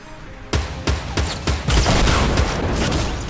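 Gunfire in the Fortnite Battle Royale video game, loud and close: several sharp separate shots at first, then a dense, rapid burst of firing with a rumbling tail, no talking.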